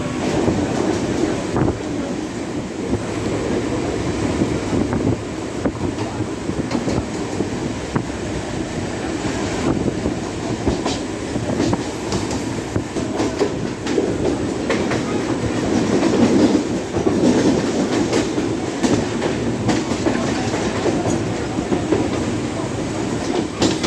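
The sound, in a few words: Mumbai fast local train departing and running on rails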